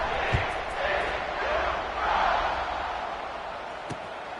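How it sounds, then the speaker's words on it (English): A football stadium crowd at a Frogs vs Cyclones game buzzes after a fourth-quarter score, a broad steady roar with swells of cheering and a couple of faint thuds, heard from a distance. "this crowd is buzzing after that last score."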